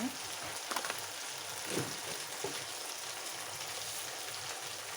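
Masala with coriander powder, for a Kerala garlic prawn curry, roasts in hot oil, giving a soft, continuous sizzle with a few faint stirring scrapes.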